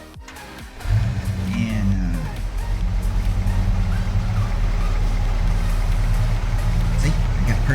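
A player-driven car in Farming Simulator 22 rumbles loud and steady after a short start, its low engine drone constant throughout, with someone talking over it.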